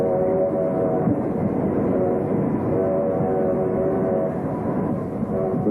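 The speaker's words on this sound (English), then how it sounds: "The soil was hauled away in rail cars, 21 to a train." A steady, loud rumble of a 21-car train hauling soil at the Culebra Cut of the Panama Canal, with a faint sustained tonal hum running through it and no pauses.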